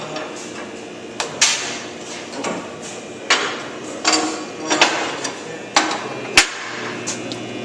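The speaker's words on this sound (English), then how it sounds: "Now I'm just tacking the backing plate to the weld, the metal, so it'll be together when I do weld." Stick welding with an electrode in a holder, tacking a steel backing plate to the workpiece; a series of short, sharp crackling bursts come at irregular intervals over a steady low shop hum, fairly close.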